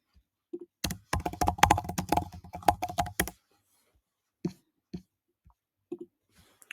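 Quick, close bursts of computer keyboard typing clatter for a couple of seconds, followed by a few scattered, fainter key taps in a quiet room.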